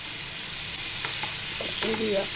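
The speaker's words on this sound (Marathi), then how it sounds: "बघा, आता आपण त्याला छान परतून घेऊया असं" Beetroot rice sautéing in a hot pan with lemon juice added, giving a steady sizzling hiss with a few soft stirring scrapes, close and moderately loud, no speech over it.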